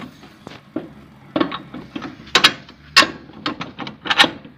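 A bolt being fitted into the pipe of a plough, giving a run of close metallic clicks and short ratcheting knocks in uneven bursts, loud and alone with no talk.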